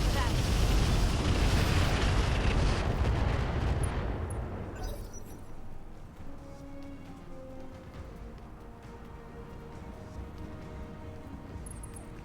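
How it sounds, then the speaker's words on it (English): A loud, dense barrage of missile explosions from the BattleTech-based Roguetech game, a rumbling wall of blasts for about four seconds that then fades into quieter crackling, scattered impacts and low rumble. "Please light up that flea with 45 missiles."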